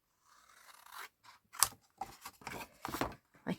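Scissors snip through card in a series of short, crisp cuts, some quick and bunched, heard close and fairly quiet with no talking.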